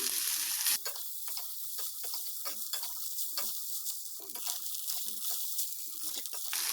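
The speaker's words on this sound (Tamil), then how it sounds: "இப்போ இதில் நம்ம சாதத்தை சேர்த்திடலாம்." Cooked rice stirred into a frying pan for paneer fried rice gives a steady run of scraping, clattering stirs over a constant sizzle, close and moderately loud, with no talking.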